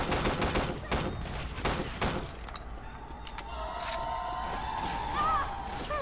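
Rapid bursts of gunfire crackle in the zombie video game Left 4 Dead 2, dense at first and then thinning into scattered shots under a steady game background, with a few high honking cries mixed in.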